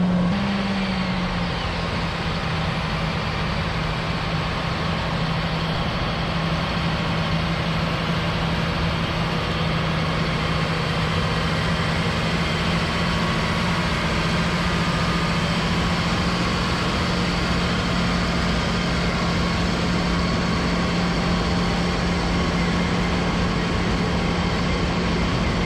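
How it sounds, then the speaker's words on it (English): Steady, loud drone of potato harvester and windrower engines running in a field, a constant low hum with continuous rumble and no breaks for the whole stretch. "And then the harvester picks up those spuds, plus digs those 4, and loads them in the truck."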